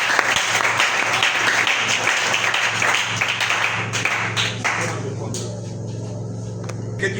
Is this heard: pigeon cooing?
no